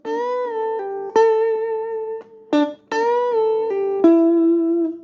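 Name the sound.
guitar playing bars one and two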